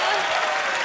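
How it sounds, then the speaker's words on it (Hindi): A studio audience on a television comedy show applauds loudly in a short, steady burst of clapping. "दोनों के लिए जोरदार तालियां हो जाए।"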